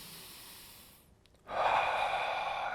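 A person breathing deeply while holding a doorway pec stretch, a soft exhale fading out, a brief pause, then a loud, close inhale that fills the rib cage, with no talking.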